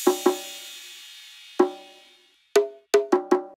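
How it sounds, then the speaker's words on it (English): A crash cymbal wash opens the passage and fades over about two seconds beneath clipped, pitched percussion hits, which then continue in short bursts with no voices. "we have this crash that comes in just to accent the downbeat."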